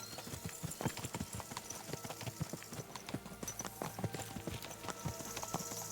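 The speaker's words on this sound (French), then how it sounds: "Même pas on y va en cheval, on galope littéralement." Galloping horse hooves pound in a fast, continuous rhythm in Kingdom Come: Deliverance 2, close and prominent with faint game ambience underneath for the full stretch.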